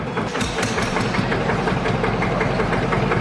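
MARTON dumper engine running just after starting, a close, loud, steady idle with a rapid knocking chug repeating throughout.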